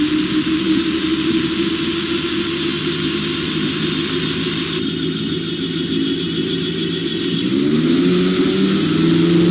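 A gyrocopter's engine runs at a steady, loud, buzzing drone during a crosswind takeoff, then swells in pitch and power near the end as it revs up.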